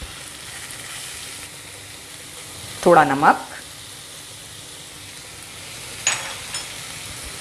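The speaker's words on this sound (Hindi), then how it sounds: "फ्लेम को हाई रखेंगे और कीमे को अच्छी तरह फ्राई करेंगे।" Chicken mince made from leg meat sizzles with softened onions in a pan over high flame, a soft steady frying hiss broken by a couple of louder stirring scrapes, with a quiet voice speaking briefly.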